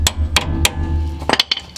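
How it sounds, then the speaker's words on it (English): Several sharp metallic hammer taps on a Honda Accord drive axle, struck from the opposite side to loosen it: a few spaced blows, then a quicker cluster of lighter taps, close and loud. "I'm going to go ahead and tap it with a hammer on the other side to get it to come out"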